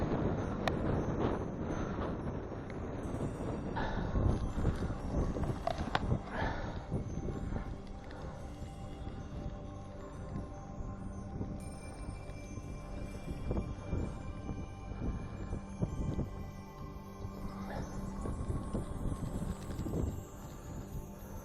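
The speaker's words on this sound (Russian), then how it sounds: "Еще и ветер плотно дует." Strong wind gusting across open ice on an extreme ice-fishing trip, buffeting the microphone with rough low rumbles and uneven bursts that swell and ease throughout, with crunching footsteps in slush.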